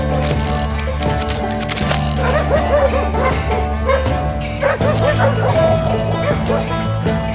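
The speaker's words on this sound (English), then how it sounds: "wild dogs, tooth and nail. They were coming at me from all directions." Wild dogs barking, yipping and growling in the western shooter game Call of Juarez: Gunslinger, repeated close snarls and barks over a loud, continuous game music score.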